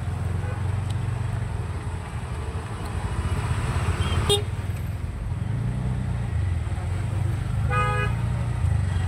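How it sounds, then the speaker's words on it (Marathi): Busy road traffic on the way into Panvel rumbles steadily while car horns toot, with a short honk near the middle and a longer repeated honking toward the end. "ट्रॅफिक आहे थोडं इथं."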